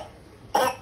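A single sharp cough bursts out after a moment of near silence, close and fairly loud, then fades quickly.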